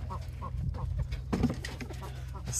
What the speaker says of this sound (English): What's up, chickens?